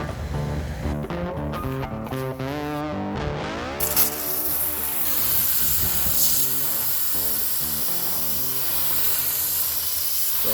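An Aqua Comb pool filter cleaning tool sprays water from a garden hose, a broad steady hiss that swells and stays loud and close from about four seconds on, with some clattering handling noise before it.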